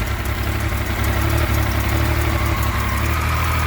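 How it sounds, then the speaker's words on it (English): A motorcycle engine from a Yamaha FZ09, fitted to a Chinese three-wheeler, idles steadily nearby, a loud low rumbling drone with a fast even pulse and no voices. "The engine right there is fine."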